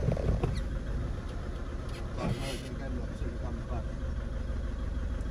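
A Cadillac 1.6 engine idling rough and misfiring on three cylinders with an open injector circuit on cylinder 4, a steady uneven rumble close by with faint ticking and clicks over the top.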